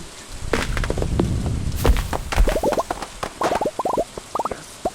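Chopping a tree in the farming game Stardew Valley: a run of sharp wooden thunks and chips at an uneven rhythm, close and loud, then quick plopping pickup blips toward the end.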